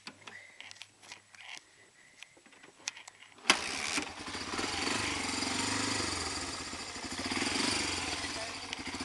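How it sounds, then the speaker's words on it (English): A 1985 Honda FourTrax 250 ATV is kick-started after a few light mechanical clicks and taps. The engine catches abruptly on the kick and settles into a loud, close, steady idle with a slight rising and falling throb. "One kick and it starts up."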